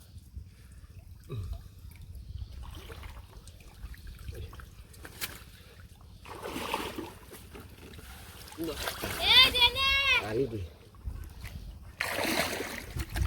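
Fish and prawns jump in village water, making scattered splashes and watery slaps between stretches of talk; the louder bursts come in the later part of the clip.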